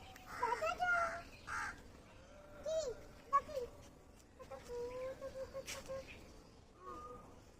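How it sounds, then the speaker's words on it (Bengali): Several crows caw in scattered bursts, moderately close, while a person talks intermittently between and over the calls. "কাক বসে আছে?"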